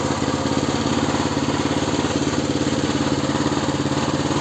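Kentavr MB40-1S walk-behind tractor engine idling steadily at low revs, a close, even rhythmic chugging throughout with no talk.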